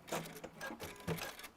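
Sewing machine stitching a quilt block, a soft rapid whirring chatter of the needle mechanism heard close and fairly quiet, without speech.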